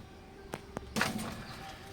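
Pigeons at a home loft: two sharp taps followed by a burst of wing flapping and faint low cooing, close and fairly quiet.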